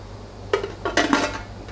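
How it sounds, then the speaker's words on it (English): A metal lid set onto a pot of chicken drumstick curry on the stove, a few clanks and rattles as it settles in place, close and clear with no talking. "So from here I'm going to put the lid on"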